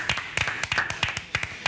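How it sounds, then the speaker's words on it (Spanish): Sparse claps from a small audience in a theatre after a piano performance, a handful of irregular sharp hits spread over a second or two, fairly close and moderately loud. "Un aplauso, gracias, maestro"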